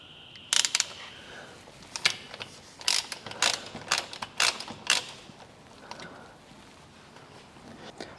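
A 13mm socket on an extension bar works loose a gearbox drain plug on a Chevrolet Cruze, giving a series of sharp ratcheting clicks and metallic taps in short bursts, close and fairly loud against a quiet garage background.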